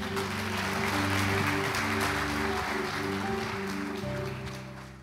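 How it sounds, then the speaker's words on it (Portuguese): Church congregation applauding during a service: continuous steady clapping from many people, with organ or keyboard chords sustained underneath, fading slightly at the end. "vamos dar uma salva de palmas para o Senhor"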